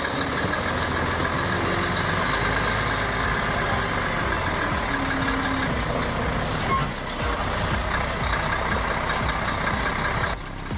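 A loaded Volvo FMX 500 truck grinds through mud on a logging site, its engine droning steadily with a high tonal whine layered over a deep, continuous rumble.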